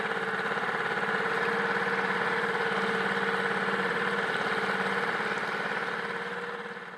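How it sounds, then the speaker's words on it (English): A small 6 horsepower outboard motor idles with a steady, rapid putter, close and even throughout, easing slightly toward the end. "As I warmed up the 6 horsepower outboard"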